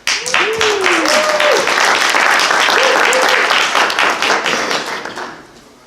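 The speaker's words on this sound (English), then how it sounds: "Give him a round of applause." Loud, dense applause fills a community library space at an evening housing talk, steady clapping with some cheers and voices over it, fading out toward the end.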